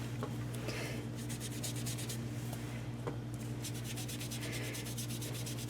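Blue ink being rubbed back and forth on paper during a card-making project, a series of quick, close scratchy strokes in bursts over low background hum.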